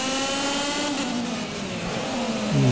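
A racing kart engine in the video game Project Cars revs hard and continuously, a loud, buzzing, high-pitched whine that holds steady, then climbs sharply at the very end.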